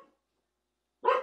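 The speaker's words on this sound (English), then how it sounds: "Dogs. Love them." A dog gives a single short, sharp bark near the end, loud and close, after a faint trailing sound at the start and near silence between.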